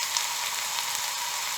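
Finely chopped onions fry in a pan for a lamb liver masala, giving off a loud, steady, close hiss and crackle with no voices.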